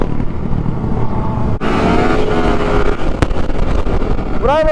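Motorcycles on a large group Easter bike run, a loud continuous engine roar with heavy wind buffeting on the rider's microphone and a shift in engine tone midway.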